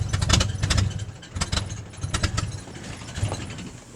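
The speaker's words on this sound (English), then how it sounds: "it's a smoking and running pretty rough. Ooh, will it idle?" A 1981 Ford tug engine runs rough and uneven, loud and close, its low chugging pulsing in irregular bursts as it struggles to hold an idle and falters toward a stall.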